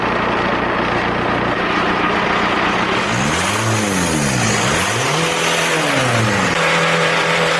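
A 1.9 TDI car engine idles with a steady diesel drone, then revs up and down several times in rising and falling sweeps, loud and close with no talking.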